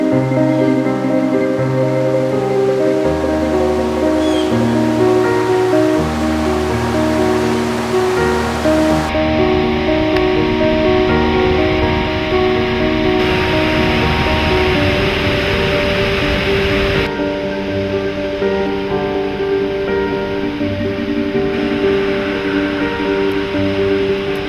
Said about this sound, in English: Fast-flowing streams carry silt from upstream before leaping over cliffs in a series of wonderful